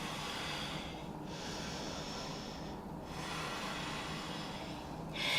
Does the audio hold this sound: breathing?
yes